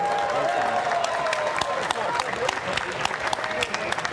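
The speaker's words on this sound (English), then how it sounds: "let's have a nice round of applause for both fighters" At a bare knuckle fighting event at Hard Rock Live in Hollywood, the crowd gives a moderate round of applause with scattered sharp claps, while a voice carries over the arena ambience.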